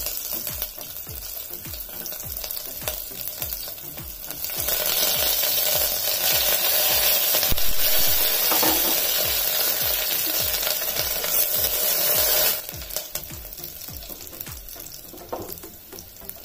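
Shallots, garlic, green chillies and tomato sizzle in hot oil in a pan for Ramadan nombu kanji, a continuous close frying crackle that swells louder midway as ingredients are stirred, with a spoon scraping now and then.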